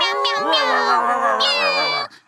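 One long, drawn-out meow, loud and close, held steadily before ending abruptly; it sounds like a person's voice imitating a cat.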